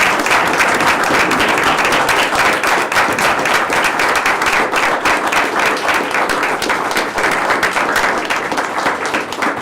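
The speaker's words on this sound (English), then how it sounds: "Let's give Mr. Fuller a round of applause" Loud, sustained applause from attendees at a Montgomery County board of commissioners meeting honouring an award recipient, dense and unbroken clapping throughout.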